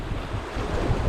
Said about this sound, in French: Le vent il s'accentue là dans la bannière